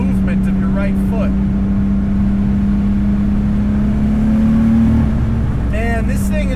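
A turbocharged 550 HP BMW E30 M3 engine pulling hard in fourth gear, a loud sustained drone rising slightly in pitch, with someone talking briefly at the start and end.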